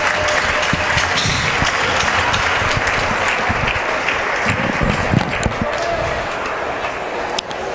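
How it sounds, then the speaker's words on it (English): Applause from the crowd at a boys' high school ice hockey game between New Bedford and Bristol Plymouth, honoring the coach: steady, dense clapping filling the rink for the whole stretch, with a few sharper claps standing out. "that coach is going to get a well-deserved round of applause"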